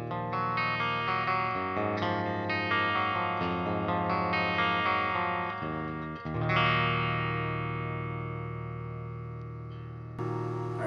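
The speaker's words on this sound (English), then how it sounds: "So here's the bridge in parallel humbucking mode, not in series." An electric guitar on its bridge humbucker pickup in parallel mode plays sustained, lightly overdriven chords that ring out and slowly fade, with one new strum at the very end.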